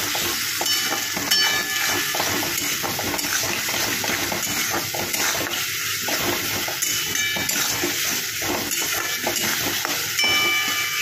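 Spice paste mixed with water frying for a white bean dish, a loud continuous hissing sizzle with bubbling and occasional stirring scrapes, close and steady throughout.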